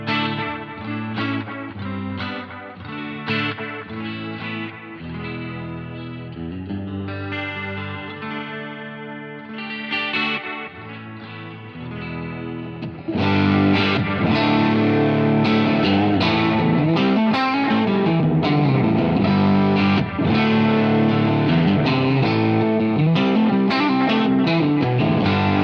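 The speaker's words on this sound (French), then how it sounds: "Petite démo donc du schéma A et du schéma B." Electric guitar played through a Vemuram Myriad dry/wet effects pedal with a built-in fuzz circuit, heard in two settings. It sounds loud and saturated with chorus and echo, and it grows fuller and heavier partway through. No talking.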